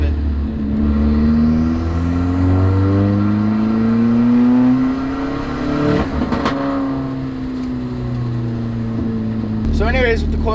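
A Nissan 240SX S14 fitted with coilovers is driven on the road, its engine note loud and close, rising steadily in pitch under acceleration, easing off, then climbing again.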